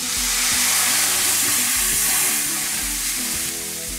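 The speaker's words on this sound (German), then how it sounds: "So, jetzt lösche ich es ab mit Rotwein." Loud, steady sizzling of roasted vegetables with tomato paste in a pan as red wine is poured in to deglaze, a continuous hiss with stirring scrapes, no voices.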